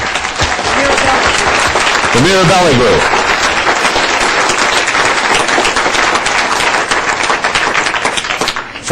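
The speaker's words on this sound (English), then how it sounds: "Now, why don't you all stand up and we'll give you a round of applause." A city council chamber audience gives a group a loud standing round of applause, dense continuous clapping close by, with a voice speaking briefly over it partway through.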